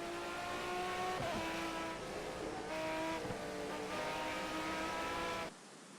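Race cars in a racing video game, a BMW pulling alongside and overtaking an Aston Martin, roar loudly with high, steady engine whine and shifting pitch as they run side by side, continuous throughout before cutting off abruptly near the end.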